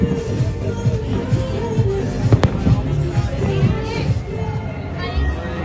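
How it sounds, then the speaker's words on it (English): Closing-day fireworks at Global Village in Dubai bang and crackle through a busy outdoor crowd, with children's voices and chatter mixed in and one sharp burst standing out midway. "they are doing some fireworks also for the closing purpose."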